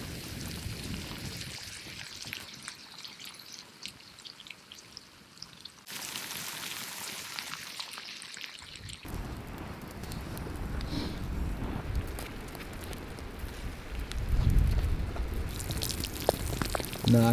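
Rain falls steadily on a wilderness campsite, a broad hiss of drops pattering on surfaces that shifts in intensity, growing heavier and more splashy toward the end.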